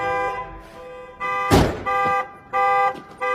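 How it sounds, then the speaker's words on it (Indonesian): Car alarm blares inside a home garage in repeated loud tonal bursts separated by short gaps, with one sharper noisy blast partway through and no voices. "dengan membunyikan alarm mobilnya di ruang garasi"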